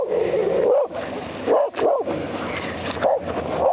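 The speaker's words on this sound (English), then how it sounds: "She always barks at the UPS guy." A sled dog barks repeatedly in quick, loud bursts close by, with short gaps between barks.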